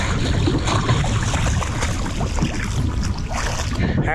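Small motorised kayak running on open water in the Florida Keys, a steady droning motor mixed with splashing water and heavy wind buffeting the microphone throughout.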